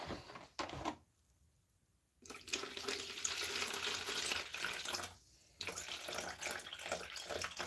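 Aloe vera juice is poured and mixed into a batch for soap making, giving a steady, close splashing pour that breaks off twice into brief quiet gaps.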